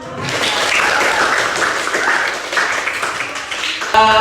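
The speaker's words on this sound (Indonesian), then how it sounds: "Oke, tepuk tangan dulu" Classroom students in a geography lesson clap together in a dense, loud round of applause that lasts several seconds before cutting off abruptly.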